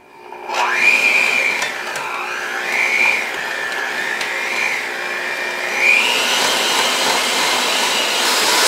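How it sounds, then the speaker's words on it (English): An electric mixer runs fast through chocolate cake batter, a loud continuous whirring whine that shifts in pitch as the beaters move, close and steady, with no talking. "So I do have my mixer going pretty fast."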